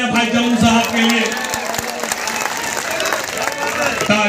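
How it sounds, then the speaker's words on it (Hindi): An audience at a mushaira Urdu poetry gathering applauds loudly, a dense wash of many hands clapping that fills the room for several seconds, with a voice on a microphone faintly audible underneath. "एक बार दोनों हाथ में जोरदार तालियां भाई जम्मू साहब के लिए"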